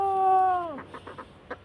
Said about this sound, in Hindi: ये देखिए ये मुर्गी है हमारी